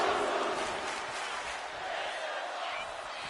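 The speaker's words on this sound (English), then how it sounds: "The WWE Universe is going absolutely wild as these two battle it out in the arena" Crowd noise from a WWE 2K25 wrestling video game arena match: a steady, dense roar of cheering fans, loud and unbroken throughout, with no clear individual voices.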